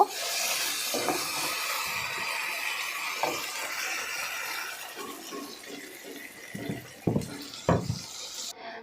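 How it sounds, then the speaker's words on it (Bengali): Water poured from a vessel into a pot of chicken-feet curry with masoor lentils on a kitchen stove, a steady splashing stream running for several seconds, followed by a few short clanks of cookware near the end. "এখন আমি এখানে পরিমাণ মতো পানি দিয়ে দিব"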